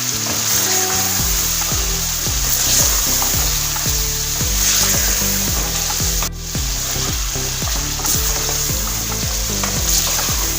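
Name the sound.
mutton paya sautéing with spices in a pan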